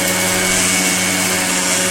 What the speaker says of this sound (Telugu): దీన్ని మిక్సీ పట్టుకుందామండి.